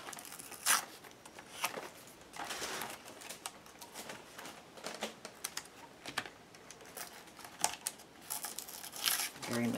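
Paper is trimmed for an envelope lined with a Gelli print, giving light crinkling and snipping sounds in irregular bursts, close and moderately quiet, with a voice talking over parts of it.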